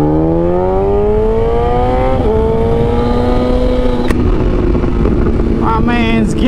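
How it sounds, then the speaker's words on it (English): A supermoto motorcycle riding wheelies down a city street, its engine droning loudly and shifting pitch as it revs, with other traffic noise around and voices talking over it. "We got a supermoto in front of us."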